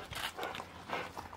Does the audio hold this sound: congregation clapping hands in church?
no